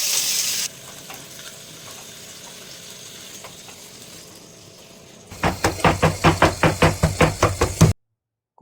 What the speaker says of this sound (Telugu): ఫస్ట్ పన్నీర్ వేయించుకోవాలి